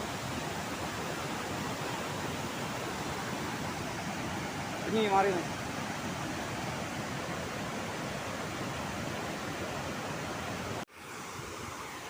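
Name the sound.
water rushing out of open Neyyar Dam shutters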